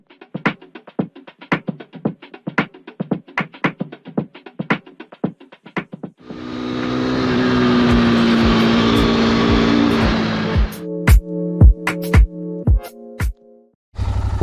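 A Royal Enfield Continental GT motorcycle starts with sharp, rhythmic single-cylinder thumps, then a loud steady engine roar while riding. Revving bursts and popping pulses follow as the sound ends.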